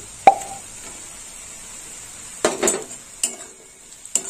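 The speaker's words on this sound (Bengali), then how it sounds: "এই দেখুন বন্ধুরা, খোয়া ক্ষীরটা দিয়ে দিলাম।" Khoya kheer drops into a pan of fried rohu fish with a sharp plop. It is followed by a short sizzle and several separate clinks of a utensil against the pan, with quiet pauses between them.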